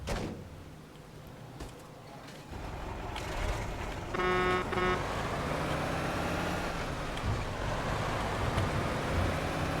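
A three-axle US Army military truck in Mafia 2 starts up and drives, its engine rumble building to a steady loud drone, with a brief beeping tone in the middle.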